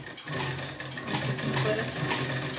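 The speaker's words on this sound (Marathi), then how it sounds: "अशी शिलाई देऊन घ्यायची" A sewing machine runs steadily while stitching tucks on a blouse, a close, continuous mechanical whir with a rapid rhythmic needle chatter and no speech.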